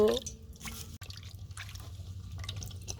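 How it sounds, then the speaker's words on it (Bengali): Dried loitta fish is rinsed by hand, with water dripping and splashing in short irregular trickles, soft and close, over a low background hum and brief indistinct voice sounds. "লোটটা শুটকিটা পানি দিয়ে খুব ভালোভাবে ধুয়ে নিব।"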